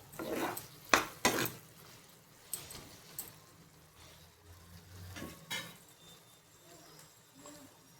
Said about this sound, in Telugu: ఇప్పుడు తిరగబెట్టాలి. కిందకి పైకి తిప్పితే తొందరగా మగ్గిపోతాయి.